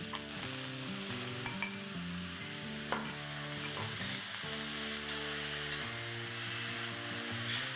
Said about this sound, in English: now I'm going to add 7 onions that I have finely chopped, and I'm going to saute this